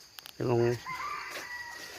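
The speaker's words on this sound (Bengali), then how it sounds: "এখানে বন্য মোরগগুলো ডাকতেছে।" A wild rooster crows once, loud and close, with a harmonic-rich call lasting under half a second, in an outdoor rural area just after rain, followed by quieter ambient sound and faint background.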